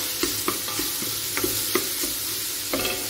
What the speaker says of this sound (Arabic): كتشحر مزيان هاد البصله كتستمروا في التحريك بحال هكا